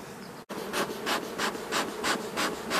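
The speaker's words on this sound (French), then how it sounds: "Ça déborde d'abeilles." Dense, steady hum of many honeybees swarming over an open hive during queen-cell removal, close and continuous with pulsing waves of buzzing and a brief dropout near the start.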